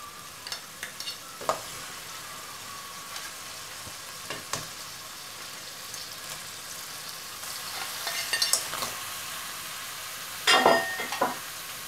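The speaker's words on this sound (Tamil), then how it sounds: "இப்போ நண்டு ஆட் பண்ணிடலாம்." Crab pieces frying in hot oil in a pan for a Tamil-style crab pepper roast, with a steady soft sizzle and intermittent scraping stirs of a spoon, louder clattering bursts near the end.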